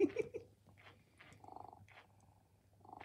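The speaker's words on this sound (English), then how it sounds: "It's purring and chewing now." A steady mechanical purring from an Amagami Ham Ham finger-nibbling robot pet hums in short rhythmic bursts, close and fairly quiet, with small clicks and rustles between.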